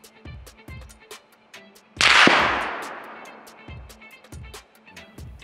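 A rifle fires a single Remington Core-Lokt Tipped round at a ballistic gel block 100 yards downrange: one loud sharp crack with a long decaying tail, set among scattered faint clicks and light background sounds.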